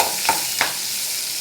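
Small shallots sautéing in hot oil with mustard seeds and urad dal, a soft steady sizzle with two brief stirring scrapes close by.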